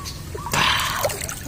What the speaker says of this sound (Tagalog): Malakas pa rin ang agos talaga oh.